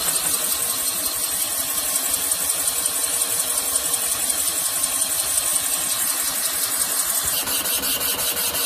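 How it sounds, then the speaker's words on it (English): A Van Norman boring bar cuts a Yamaha 701 62T big-bore cylinder, the interrupted cut passing through the exhaust port as it drops, a loud steady machine whine with a fast regular chatter, alone. "You can now hear the interrupted cut going through the exhaust port as it's dropping down."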